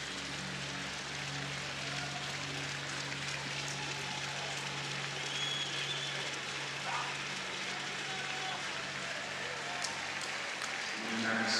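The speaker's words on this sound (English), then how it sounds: "Still a lot of noise. People clapping." Steady, dense clapping from a large stadium crowd at the 2016 European Athletics Championships before the men's 800m final, a continuous rain-like wash of applause heard from a distance with a faint low hum beneath.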